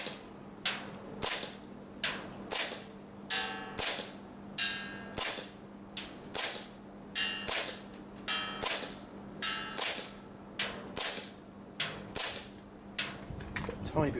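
Airsoft gas blowback pistol firing .3 gram BBs at a target, about a dozen sharp cracking shots at a fairly steady pace, each with a brief metallic clack of the slide, close and loud.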